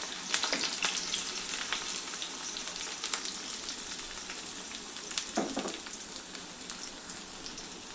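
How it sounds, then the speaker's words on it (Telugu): Thinly sliced onions and two green chillies fry in hot oil, giving a steady close sizzle with a few sharper crackles and stirs along the way. "ఇప్పుడు ఆయిల్ వేడయ్యాక సన్నగా తరిగిన ఉల్లిపాయలు వేసుకోవాలి."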